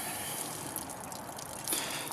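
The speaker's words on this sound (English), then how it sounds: "Look at this water flowing here." Water running along the rubber seal of an RV slide-out, a steady close rushing and gurgling flow with a few brighter drips and no voices.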